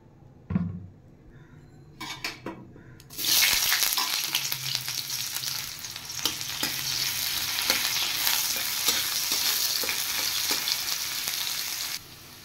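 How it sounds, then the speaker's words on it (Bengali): Onion hits hot oil in a wok with a sudden loud sizzle that settles into steady crackling frying, with a few clanks of stirring beforehand. "এবার একটা পেঁয়াজ কুচিয়ে রেখেছি, এই পেঁয়াজটা একটু ফ্রাই করে নেব"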